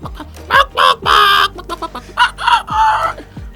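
A man mimics a rooster with his voice, giving several loud, close clucking and crowing calls in quick bursts, his voice vivid and nasal throughout.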